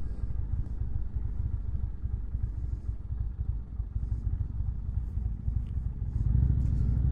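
A 2019 Indian Chieftain with Stage II cams rumbles continuously while riding, a deep low throb with wind buffeting, growing louder and heavier near the end as the throttle opens.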